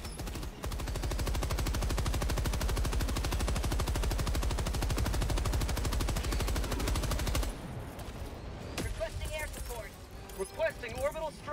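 Rapid, sustained automatic gunfire from a firefight in the co-op shooter game Helldivers 2, dense and loud for about seven seconds, then cutting off into scattered game effects and a voice speaking.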